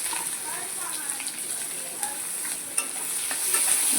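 Onions fry in hot oil with sugar and bay leaves in a pan for a Shankar fish kosha, giving a soft continuous sizzle broken by light stirring scrapes, fairly faint and steady throughout.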